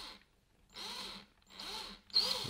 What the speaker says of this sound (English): is you just use your drill.